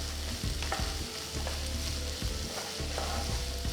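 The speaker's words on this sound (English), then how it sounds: "saute them till the onions come to a nice golden brown color" Onions, chopped ginger and green chilli sizzle with mustard seeds in a pan for poha dumplings, a steady close hiss broken by the scrape and clatter of a spoon stirring.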